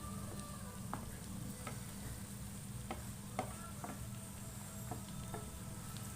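Potato filling being stirred in a frying pan: a spoon scrapes and taps the pan at irregular intervals over a low, steady sizzle, with no voices.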